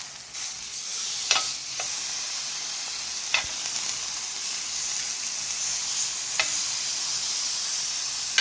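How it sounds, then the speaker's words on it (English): Filet mignon sears in a cast iron pan with a steady, loud sizzling hiss, broken by a few sharp pops and crackles, with no voices. "You want to sear that for about 2 to 3 minutes."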